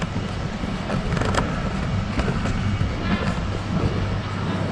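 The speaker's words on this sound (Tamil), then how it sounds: "ட்ரெயின் வேகம்லாம் குறைஞ்சபட்சம் 150 கிலோமீட்டர் தான்." A high-speed airport train running from Gardermoen to Oslo, Norway, gives a steady, loud rolling rumble with faint rhythmic clacks throughout.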